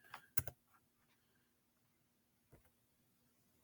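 Computer keyboard keys clicking in a few short, quiet bursts, with a brief cluster near the start and single taps after a pause, in a hushed room with no talking.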